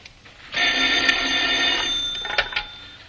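Telephone bell ringing in an old-time radio drama from the World War II era, a steady close ring that sounds loud and alone for more than two seconds after a brief quiet start.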